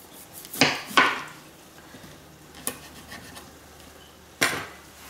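Kitchen knife cutting the top off a soft cooked spaghetti squash, heard as a few sharp cuts and taps against a board, sparse and close, with quiet gaps between.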